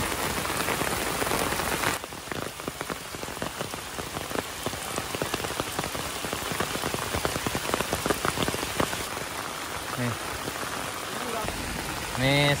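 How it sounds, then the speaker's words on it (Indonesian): Heavy rain pours and patters densely on surfaces outdoors on a hillside road, a steady loud wash with runoff water rushing beneath it. No one speaks. "sekarang kondisi di sore hari sana hujan lebat dan aliran airnya cukup deras"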